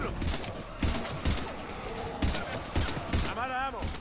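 Rapid bursts of gunfire from a shooter video game played on PS4, several shots in an uneven rhythm behind shouted voices and game noise, with a short rising electronic whine toward the end.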